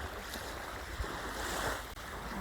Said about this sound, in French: J'adore le bruit des vagues,